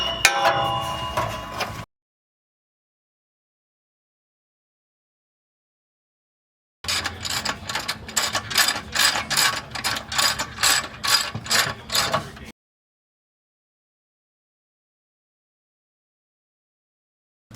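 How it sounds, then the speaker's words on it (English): A 13 mm socket ratchet loosening the battery ground nut on a Roadtrek camper van, giving a short burst of ratcheting, then silence, then a longer run of rapid, evenly spaced clicks up close, with no voices. "That's 13 mil? 13 mil, yeah. 13 mil socket"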